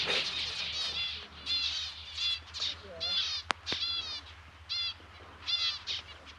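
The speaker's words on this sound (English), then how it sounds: "The zebra finches love to nest in these plants where the cats and predators can't get to" Zebra finches in cactus garden plants give repeated bright, nasal chirps and chattering calls in quick clusters, fairly close and lively, with a sharp click partway through.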